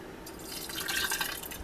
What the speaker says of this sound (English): Now we're going to put it in our jars